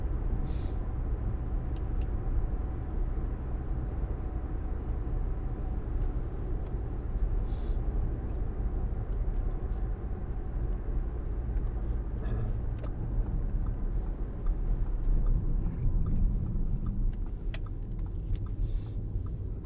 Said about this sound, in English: In 6th gear there, doing 60 miles an hour at